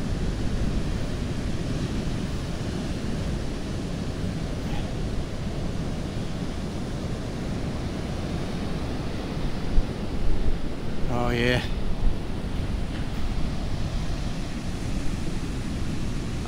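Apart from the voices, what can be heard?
sea waves and wind on a Cornwall beach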